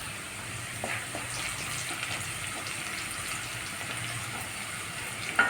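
Onions frying with salt in a pan: a steady soft sizzle and crackle throughout, close but fairly quiet, with a small clink near the end.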